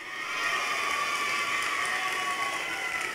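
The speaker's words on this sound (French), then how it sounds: "Merci pour vos applaudissements" A crowd at the opening ceremony of a Guadeloupe cycling tour claps continuously, a fairly faint, even wash of applause with light cheering at a distance.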